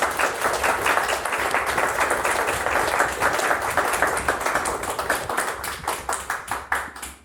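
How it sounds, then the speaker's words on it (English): An audience at a Catholic and Orthodox gathering breaks into loud, dense applause, many hands clapping rapidly and steadily at close range, easing off slightly toward the end with a few distinct final claps. "may I ask for 4 rounds of applause"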